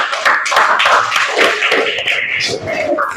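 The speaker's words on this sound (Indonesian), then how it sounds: "Berikan aplaus." Audience clapping continues steadily after a group presentation in a classroom session, dense and fairly close, with scattered individual claps and faint voices mixed in.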